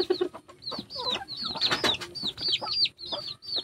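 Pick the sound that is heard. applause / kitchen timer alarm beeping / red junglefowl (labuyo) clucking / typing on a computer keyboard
red junglefowl (labuyo) clucking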